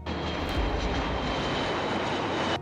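An airplane engine roars steadily and loudly as a sound effect, with a deep rumble swelling briefly near the start before holding constant, with no talking.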